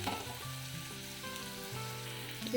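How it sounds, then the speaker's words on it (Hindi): Onions sizzle steadily in hot oil, frying until light brown for an eggplant achari, with a continuous close crackle under a layer of steady tonal sound. "लाइट ब्राउन है टिके भाजवा पियाज को"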